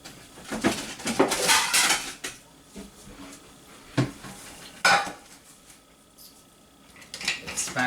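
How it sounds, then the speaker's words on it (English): A platter is pulled out in a home kitchen while making scones, with several loud clanks and clatters of crockery and metal coming in bursts separated by quieter gaps. "I'm just going to get a little platter out"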